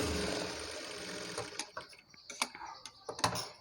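A sewing machine runs a short burst stitching a half-inch seam on an umbrella frock made from a saree, then stops, leaving scattered light clicks and taps nearby.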